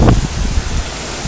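Wind-driven backyard pool water splashes out during a Phoenix sandstorm, a loud close hissing wash with gusty bursts and no voices.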